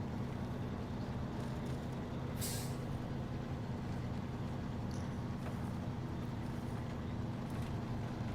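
A heavy truck in SnowRunner idles with a constant deep engine drone, broken once by a sharp, loud hiss of the air brake releasing midway, with fainter hisses later.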